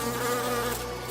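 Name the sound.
insects buzzing, sound effect in a myth narration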